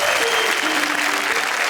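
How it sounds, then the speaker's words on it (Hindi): An audience at a Hindi poetry recital breaks into sustained, dense applause, loud and even throughout with a faint voice underneath. "ये सारी तालियां मुझे काका जी की वजह से मिल रही हैं"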